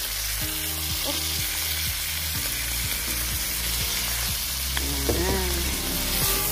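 Mushrooms hit a hot frying pan for picadillo and sizzle steadily and loudly up close, with occasional scrapes and clinks of stirring; no voices.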